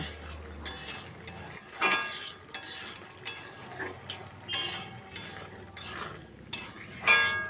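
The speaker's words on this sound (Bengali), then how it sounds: "আবারও দু চার মিনিট নেড়ে চেড়ে ভেজে নেব" Chickpeas stirred and fried in a pan: a spoon scrapes and clinks against the metal in irregular strokes, with soft frying underneath and a brief low hum at the start.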